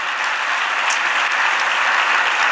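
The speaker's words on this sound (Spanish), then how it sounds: "Podemos darle más fuerte ese aplauso al Señor" Church congregation applauding during a sermon, a steady, dense wash of clapping hands that fills the space evenly from start to finish with no voices standing out.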